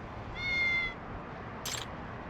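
A single short, clear meow from a cat in the video game Lost Judgment, followed a moment later by a brief high chime-like effect, over a quiet background.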